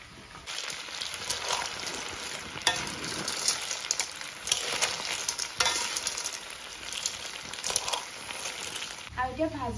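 River snails coated in turmeric frying in a pan make a dense, crackling sizzle, with frequent loud stirring scrapes and clatters rising and falling close by.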